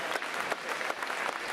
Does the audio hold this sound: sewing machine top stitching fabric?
no